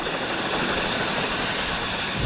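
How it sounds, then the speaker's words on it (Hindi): Helicopter in an animated Beyblade Metal Fusion episode: a steady, loud, unbroken roar of rotor and engine noise that holds evenly for the whole stretch. "वो हेलीकॉप्टर।"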